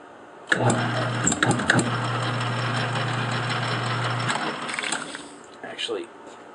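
A lathe with a ground tool bit, turning a non-magnetic stainless steel piece, starts up with a thump into a strong, steady motor hum. It runs for several seconds, then winds down, leaving faint rattles and room noise.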